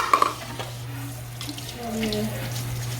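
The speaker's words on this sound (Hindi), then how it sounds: "मैं ये बर्तन साथ में धो लूँगी" Tap water runs steadily into a kitchen sink while a bowl and utensils used for cutting onions and tomatoes are washed, with a few brief clinks near the start and low hum underneath.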